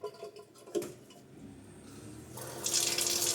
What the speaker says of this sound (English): Now the sparkling water.